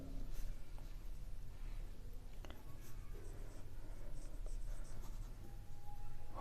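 Steady scratching of a pen on paper while a ninth-grade maths answer is written out by hand, continuous and close, with faint room noise and no talking.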